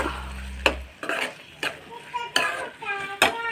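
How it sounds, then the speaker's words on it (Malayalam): Mango pickle being stirred after vinegar is added, a series of distinct scraping, clinking strokes of a spoon against the pot at an uneven rhythm, close and fairly quiet. "കുറച്ച് വിനാഗിരി എന്നിട്ട് നന്നായിട്ട് മിക്സ് ചെയ്ത് കൊടുക്കുക"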